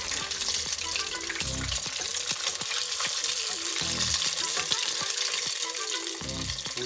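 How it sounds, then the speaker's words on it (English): Croquetas are lowered into preheated olive oil in a pan and fry there. A continuous bright sizzle runs throughout, and low thumps from utensil handling recur at regular intervals. "we put it into preheat olive oil"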